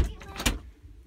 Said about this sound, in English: Close up the door.